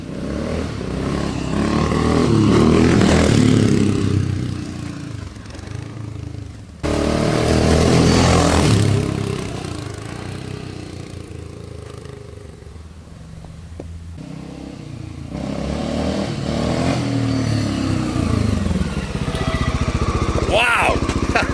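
A 1986 Honda XR600R four-stroke motorcycle revs hard and rides up a driveway, its loud, rough engine note swelling and dropping through throttle bursts, with a short break before it roars again and a voice speaks briefly near the end.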